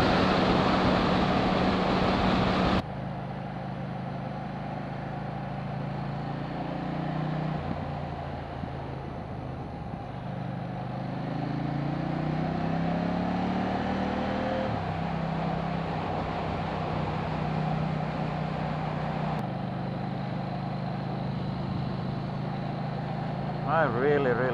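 A KTM 790 Duke naked motorcycle, a 2018 model, cruising at highway speed, its steady engine drone mixed with heavy wind rush and shifting pitch, close and continuous with no talk.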